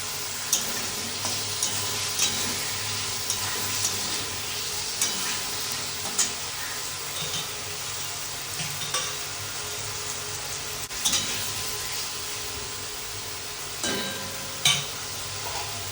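Boiled potatoes frying in a pan while being stirred, giving a steady sizzle close by with scattered light scrapes and clinks of the stirring utensil, and no voices.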